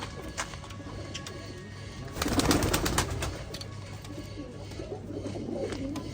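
Rampuri Chinese pigeons coo softly amid rustling and fluttering, with a brief burst of wing flapping midway; fairly close, no clear speech.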